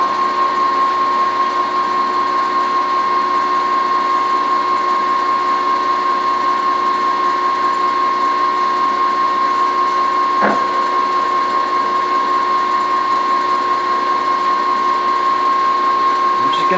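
South Bend lathe making a cut on a 5C collet adapter, a loud steady high whine with a constant tone, a single sharp click partway through.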